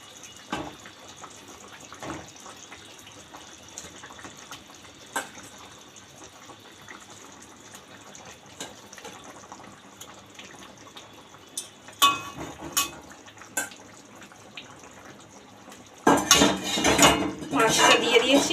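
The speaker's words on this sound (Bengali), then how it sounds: "এবার মাছটা দিয়ে দেবো।" Stingray fish pieces go into a pot of boiling vegetable curry broth in a home kitchen: a long quiet simmer with faint clinks, then a sudden loud burst of splashing, bubbling and spattering near the end.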